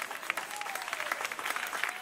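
A church congregation claps during a prophetic service, a dense run of overlapping handclaps at moderate level with crowd murmur beneath and a faint voice gliding through.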